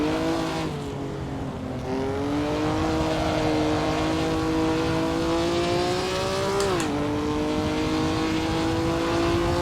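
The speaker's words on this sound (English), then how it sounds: "just chilling and want to drive a 50s Formula 1 car around a vintage track" A 1950s Formula 1 car in the Assetto Corsa racing game, its engine droning loud and continuous at steady high revs with a short dip and pickup partway through.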